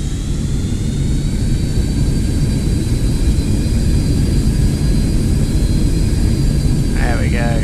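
Jet engines of an MD80 in the X-Plane 12 flight simulator roar in reverse thrust, a loud, steady rushing drone with a faint high whine that holds evenly throughout.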